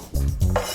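Chopped shallots are scraped into a salad bowl, giving a quick clatter of utensil against bowl and a soft knock of pieces landing, close by and brief, with no talking.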